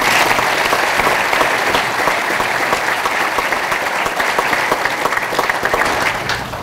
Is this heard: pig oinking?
no